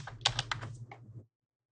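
Text being typed on a computer keyboard: a brief run of soft, close key taps over a low hum, stopping abruptly into silence.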